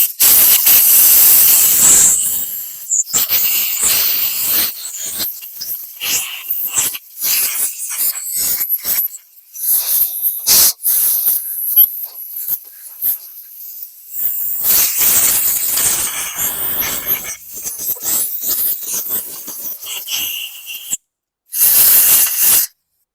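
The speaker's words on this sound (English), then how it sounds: "So blast a little air through your air breather tube here" Compressed air blasts through a lawn mower's air breather tube in loud, hissing bursts of varying length, separated by short pauses, with no talking.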